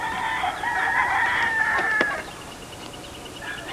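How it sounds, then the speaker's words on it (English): Fighting game chickens crow and cluck close by, with a loud crow in the first half followed by softer clucking, alone without talk. "These are fighting game chickens."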